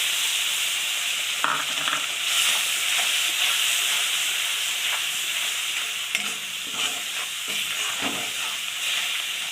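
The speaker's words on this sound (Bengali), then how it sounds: "মশলাটা একটু আমি ভেজে নেব" Ground spice paste with turmeric sizzles and frys in hot oil in a pan for Bengali mustard-style papda fish curry, a steady bright hiss with occasional stirring scrapes, close and continuous with no talking.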